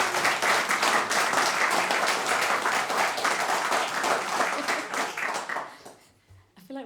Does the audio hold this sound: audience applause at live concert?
yes